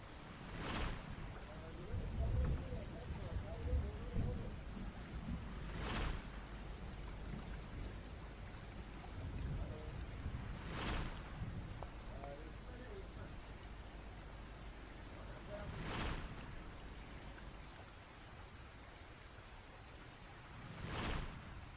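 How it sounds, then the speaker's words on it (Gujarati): Steady rain falls over Patan in an unseasonal downpour, a continuous hiss heard close with sharp drips and several strong ticks at regular intervals. A voice talks faintly underneath. "આજે સવારથી પણ ત્યાં પણ વરસાદ ચાલુ છે"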